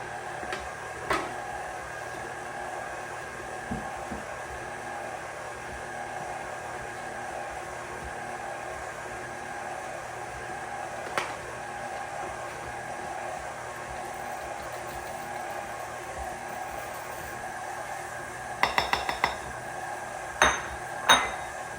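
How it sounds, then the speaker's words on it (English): A stand mixer with a paddle attachment churns summer sausage meat with its spice mix in a steady mechanical whir. Occasional metallic clinks come through, and a short cluster of sharper knocks and clatters sounds near the end. "I'm using the paddle attachment to the mixer"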